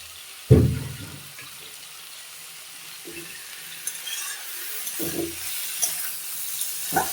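Kechki fish seasoned with salt, turmeric and mustard oil dropped into a pan of browned radish and onions, giving a loud initial hiss and thump that settles into a steady low sizzle with occasional stirring clatters.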